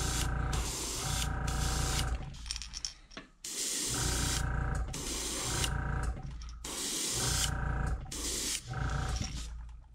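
An airbrush spraying paint onto a yellow perch fishing lure, with long hissing bursts of spray switching on and off in a repeating rhythm, loud and close, with a mechanical hum beneath.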